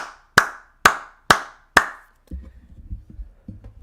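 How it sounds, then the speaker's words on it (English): Four slow, evenly spaced single hand claps in a deliberate golf clap, crisp and close, followed by low muffled handling noise. "I want to give a good golf clap."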